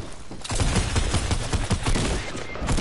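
Rapid bursts of video game gunfire rattle almost without pause after a brief quiet opening, loud and dense, with heavy low booms underneath.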